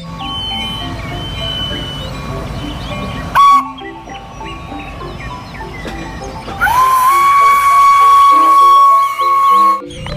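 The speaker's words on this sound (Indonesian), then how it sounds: "Di sini ada kereta Thomas." A Thomas toy train whistle sounds in short tones and then one long sustained tone, over a busy background of music-like beeps and effects.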